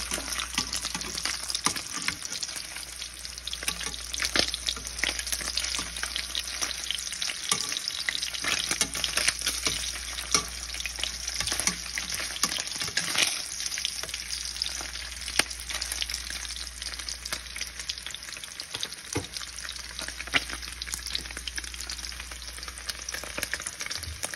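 Spam slices sizzle and crackle steadily in a hot frying pan, close and continuous, with occasional scraping stirs and light clatter throughout.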